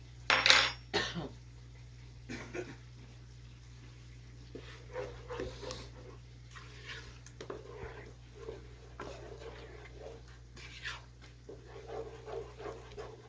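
Food being stirred in a pot, with intermittent clinks and scrapes of a utensil against metal, fairly quiet, while a dog makes noises nearby and a faint hum runs underneath.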